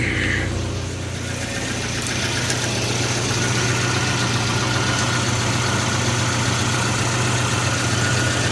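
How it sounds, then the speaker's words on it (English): A 1985 Volvo 240 idling just after a restart on a mostly dead battery, a steady low engine hum with even vibration throughout, close by and with no talking. "Let's see if she'll start again with the mostly dead battery. Now she started again."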